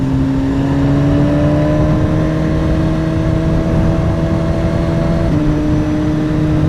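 A 2016 BMW S1000RR motorcycle engine pulls steadily and loudly, its pitch rising smoothly as it accelerates, then dipping briefly at a shift before climbing again, with no talk over it.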